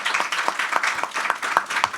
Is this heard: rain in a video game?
no